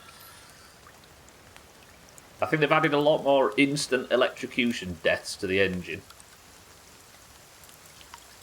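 Steady rain in the survival game The Forest forms a soft, constant hiss that runs through the whole stretch, faint under someone talking in the middle and alone at the start and end.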